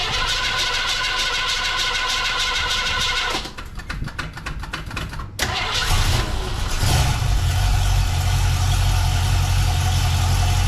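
Car engine firing up after a paint job on the underside of the hood was baked for about ten minutes, a sudden start followed by a steady, loud idle with low rumble close by.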